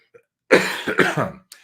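A single close, throaty cough rasps out in a few quick pulses, surrounded by near silence.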